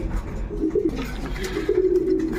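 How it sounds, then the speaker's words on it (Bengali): A Danish pigeon, an almond tiger, gives a short run of low rolling coos close by over a steady background hum. "দেখেন কবুতর ডাক দেখেন"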